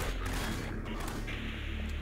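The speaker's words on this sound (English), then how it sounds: "Brock, these guys are shooting at us, man!" Enemies open fire in a Garry's Mod horror map, a dense, continuous barrage of gunshots that stays loud and close throughout, with no breaks.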